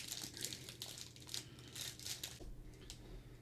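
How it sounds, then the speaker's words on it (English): A plastic hydro sheet for an Army Painter wet palette is handled, giving soft, continuous crinkling and rustling with small irregular crackles, close and fairly quiet, no voices. "So let's take one of the hydro sheets."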